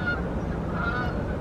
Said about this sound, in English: look at those geese